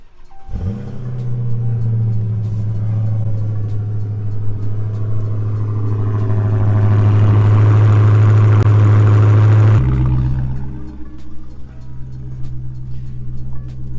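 A 2020 Dodge Charger Hellcat Widebody engine cranks and catches, then settles into a loud, steady idle close by, rising briefly in pitch before dropping back to a lower hum.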